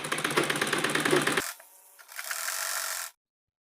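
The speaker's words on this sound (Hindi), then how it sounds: "अब हम साइड की फिटिंग की सिलाई कर लेते हैं इस तरह से।" A sewing machine stitches the side seams of a cotton baby jhabla, a dense rapid mechanical whir with steady needle ticking, loud and close, pausing briefly mid-clip before resuming and then stopping abruptly.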